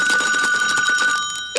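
A cartoon telephone bell rings with a steady, bright electronic trill for over a second, then cuts off, with a brief cartoonish chirp at the very end.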